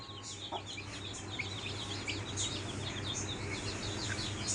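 A brood of twelve desi local-breed chicks peeping under a mosquito net: continuous high-pitched chirps overlapping at a moderate, even level throughout.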